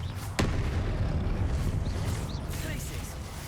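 A Confringo fire spell cast in Hogwarts Legacy bursts out as one sharp, loud blast near the start, then a dense rumbling roar carries on over steady low-end game noise.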